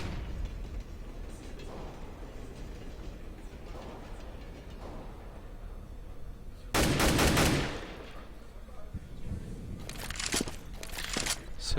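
Gunfire in a Counter-Strike: Global Offensive match crackles faintly through the first seconds, then one loud burst of shots rings out near the middle, followed by a few quieter scattered shots at the end.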